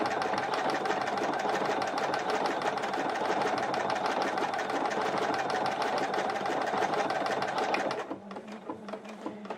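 A sewing machine stitching fabric sideways runs with a steady, fast mechanical whirring and needle chatter that holds for about eight seconds, then cuts off, leaving quieter handling noises.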